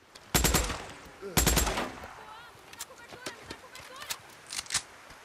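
Gunfire from a weapon in the Days Gone video game: two loud, heavy blasts near the start, then a scattering of sharper, quieter shots and clicks, with no talking.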